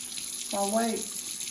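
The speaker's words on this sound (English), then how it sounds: "So I'm gonna put 2 quarts of water" Water pouring into a container for water glassing eggs: a brief splash and gurgle close by, rising and fading within a second over a faint steady background hum.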